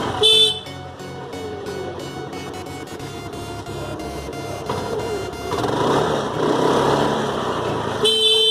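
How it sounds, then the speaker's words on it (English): Scooter horn honks with short, bright beeps at the start and again at the end, close and loud, with a low engine rumble running underneath between the toots. "So the horns are working fine, everything is done."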